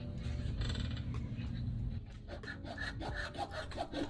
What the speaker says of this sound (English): I'm using a hacksaw blade handle, which gave me some adjustability on the length of the blade and made it easier to cut